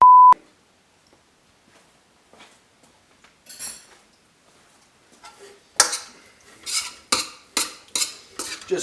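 A short beep, then a metal spoon scraping and tapping in a pan as Vegemite fried rice is stirred, growing into a close run of rhythmic scrapes over the last few seconds.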